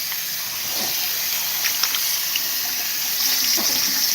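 Tap water runs steadily into a bowl as fresh water is poured for a pet, making a continuous, even hiss and splash at moderate level with no one talking.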